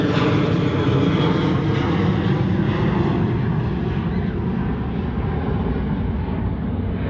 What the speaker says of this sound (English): here comes Southwest Airlines